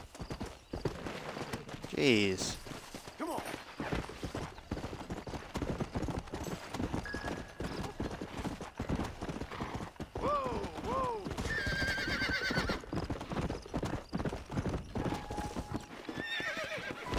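Hoofbeats clip-clop and a horse whinnies repeatedly in the Western game Red Dead Redemption, near Fort Mercer, while someone talks over the action.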